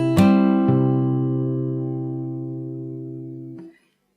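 Guitar plays a phrase from a riff, opening with a sharp slapped strum followed by a second struck chord. Both ring out long and steady up close before being muted near the end, with no talking.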